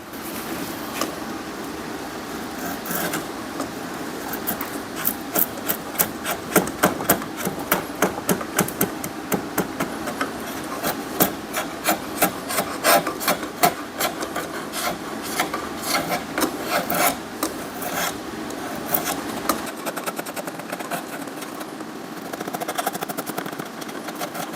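A hand tool works over the back of a wooden piece, smoothing it with quick repeated rasping strokes that come in bursts, loud and close, with a steady hum underneath.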